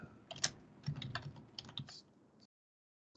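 Keys clatter in quick irregular bursts as a file name is typed on a computer keyboard, close and clear, then stop abruptly into silence before one last faint tap.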